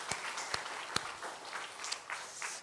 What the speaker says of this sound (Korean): 우리 다 박수로 한번 감사합니다